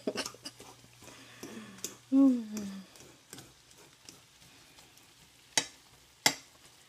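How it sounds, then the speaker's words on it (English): A fork chops and turns food in a frying pan for taco salad, giving scattered scraping taps over a faint background sizzle, with a short vocal sound partway through and two sharp clacks near the end. "I'll just chop it up with the fork like that."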